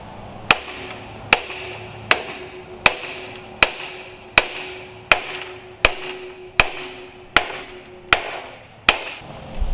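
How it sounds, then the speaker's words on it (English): Big hammer striking a Mustang II control arm, eleven loud, evenly spaced metallic blows with ringing decay, close up and steady in rhythm, with no talking. "I'm gonna do the wrong thing and hit it with a big hammer."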